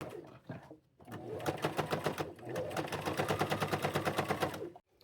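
A sewing machine rattles out a fast, even run of stitches while double-stitching around a pocket, loud and close after a brief quiet start.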